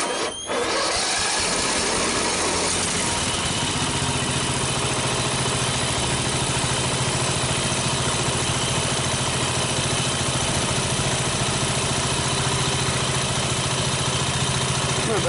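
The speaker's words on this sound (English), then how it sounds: "You want to start your engine and let it run for about 5 minutes." Small lawn equipment engine starts and then idles steadily and loudly up close, a continuous even drone with no talking over it.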